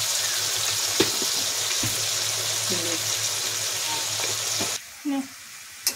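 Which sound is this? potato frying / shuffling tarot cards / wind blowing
potato frying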